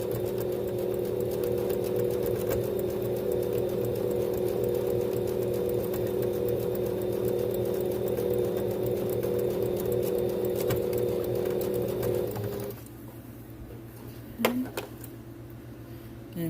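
Sewing machine running steadily for about twelve seconds, top stitching a fabric window mask with a close, even mechanical whir, then stopping into quieter room sound with a few small clicks.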